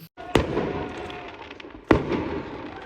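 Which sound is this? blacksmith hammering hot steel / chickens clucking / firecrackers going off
firecrackers going off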